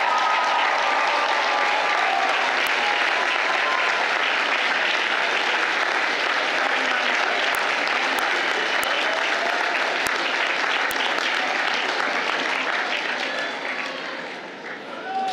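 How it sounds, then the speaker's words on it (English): Sustained, loud applause from a large crowd at a Georgetown College commencement ceremony for the Class of 2022, a dense continuous roar of clapping that holds steady and tapers slightly near the end. "The applause is so wonderful and so fitting."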